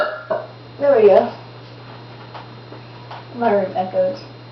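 A girl lets out two loud, drawn-out burps a few seconds apart in an echoing bedroom, each a throaty rasp that rises and falls, with quieter room noise and a low hum between them.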